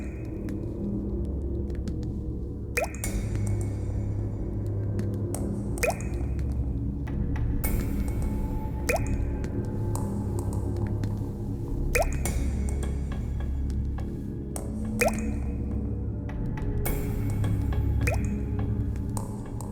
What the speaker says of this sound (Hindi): अरे वो पानी कहाँ से टपक रहा है?